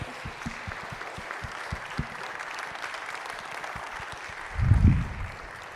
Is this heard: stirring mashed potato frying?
no